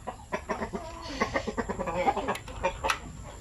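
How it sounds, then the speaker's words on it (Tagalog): Native chickens clucking in a farm coop, several birds giving repeated short clucks and calls at close range with faint rustling behind, no one talking. "Dito banda, yan ang aming manukan."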